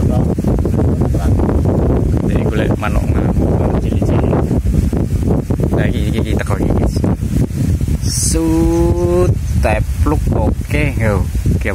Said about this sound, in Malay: Waduh angin tekone.